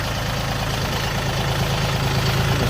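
A small Dongfeng 24 horsepower tractor engine idles steadily and loudly up close, with a constant low rumble and even throbbing that never changes pace.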